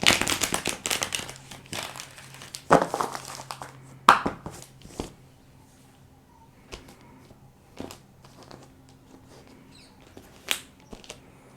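Tarot cards being shuffled by hand, a flurry of crisp papery riffles and taps that starts busy and close, then thins to scattered soft clicks and slaps in a quiet room.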